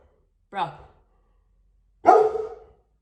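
A dog barks twice, nearby and fairly loud, with a short pause of silence between the two barks.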